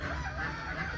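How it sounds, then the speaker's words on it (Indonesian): A Madura ayam gaok chicken, a breed descended from island junglefowl, crows in one brief, sustained call, moderately loud and alone. "Jadi ayam gaok ini silsilahnya adalah dari ayam hutan yang ada di Kepulauan Madura."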